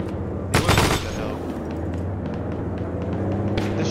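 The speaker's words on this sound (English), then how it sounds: "Shooting near the church on that side right there, about 34 degrees" A loud burst of automatic gunfire near a church in a World War II battle game at Kharkov, followed by continued distant shooting and rumble under the mix.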